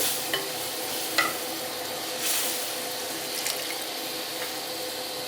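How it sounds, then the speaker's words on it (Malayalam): Water trickles little by little into a Kerala-style mackerel curry simmering in a pan, a steady soft hiss and gentle stirring sounds with a few brief clinks, close and fairly quiet with no talk. "കുറേശ്ശെയായിട്ടാണ് വെള്ളം ഒഴിച്ചു കൊടുത്ത്"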